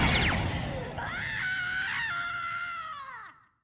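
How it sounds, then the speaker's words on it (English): Dexter from the Dexter's Laboratory cartoon screams in pain during laser eye surgery: a loud, shrill, wavering cartoon shriek that holds for about three seconds with rising and falling pitch, then drops off abruptly. "he lets out yet another chilling scream"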